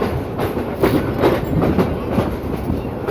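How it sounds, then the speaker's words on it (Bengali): A commuter train on the Dhaka–Narayanganj line pulls into Narayanganj railway station, its wheels rumbling and clattering steadily over the rails at close range, with no talk over it. "ট্রেনটি নারায়ণগঞ্জ রেল স্টেশনে প্রবেশ করছে"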